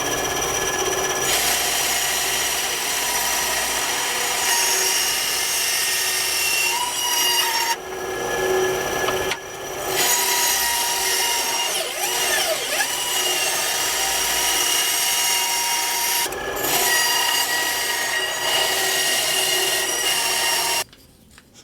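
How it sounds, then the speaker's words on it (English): Dull bandsaw blade cutting wooden knife handle scales, a steady loud whine and rasp with short pauses between passes, no talking. "next I'll take it over to the bandsaw and we'll cut those out"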